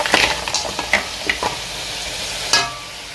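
Mutton pieces hit hot oil in a kadai for Lucknow-style biryani, crackling and sizzling close by. Sharp bursts and spoon scrapes come early, then a hiss fills the rest, with a final clatter near the end and no talk.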